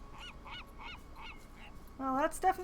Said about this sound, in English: Well, that's definitely a seagull, not a fairy.